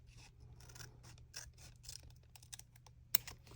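Scissors trim a paper jar cutout for an art journal. Faint, close snips and papery rustles come in an uneven series, with one sharper click near the end.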